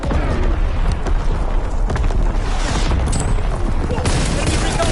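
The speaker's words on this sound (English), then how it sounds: "Enemy mortar fire incoming." Enemy mortar fire and explosions in Call of Duty WW2 form a loud, continuous barrage of booms and battlefield gunfire, with a wartime radio voice speaking over the din.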